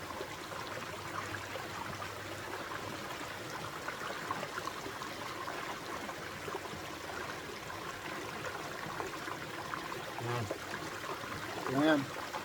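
Water of a forest stream flows and trickles steadily around a bottle set in it to cool, a continuous close wash of sound with a brief louder splash near the end.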